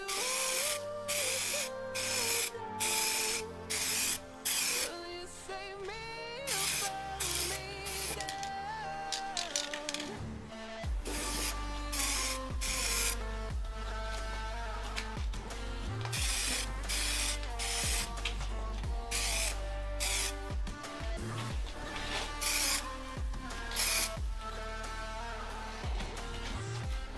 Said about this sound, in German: jetzt gehen wir dran und lackieren.